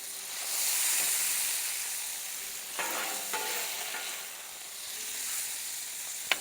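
Shrimp sizzle on a griddle, a soft, steady hiss with a few light scrapes and taps from a spatula partway through.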